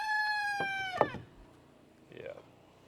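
A rooster crows outdoors near a building site where a portable sawmill is cutting siding boards: one strained, harmonic crow of about a second ends in a sharp break, then a fainter, shorter call follows over quiet background.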